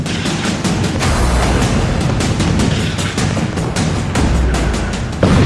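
Israeli airstrike on Gaza, seen from drone footage: a sustained, loud, low rumbling roar fills the whole stretch, with dense crackling bursts and a fresh jolt of impact near the end, no voices present.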